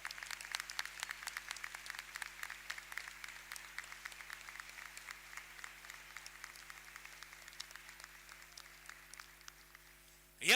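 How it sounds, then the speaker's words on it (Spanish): A festival crowd at the Río Gallegos 138th anniversary gives a faint, distant round of applause for the city's artists, scattered claps crackling steadily over a low hum for about ten seconds. "el primer aplauso de esta presentación es para todos estos artistas"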